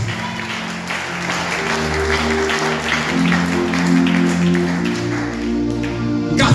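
A church congregation applauds steadily throughout, a dense wash of clapping with some cheering voices and a sustained musical tone or organ underneath, moderately loud and continuous.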